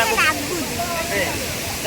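Water flows and splashes at a water source outdoors, a steady broadband rush with a brief louder burst near the start, heard close alongside someone talking.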